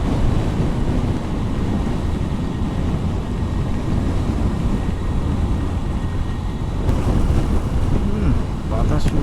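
Strong gusting wind roars loudly into the microphone while riding a motorcycle on the Dhaka–Chittagong highway, a dense, constant buffeting rumble that intensifies near the end.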